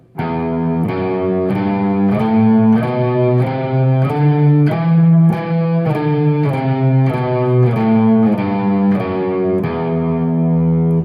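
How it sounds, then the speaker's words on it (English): A natural minor scale rings out on a distorted electric guitar, about a dozen sustained notes picked one after another at an even pace, loud and alone. "A minor scale sounds like this."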